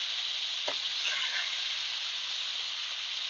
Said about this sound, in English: Pretty much deep frying this beef at the moment.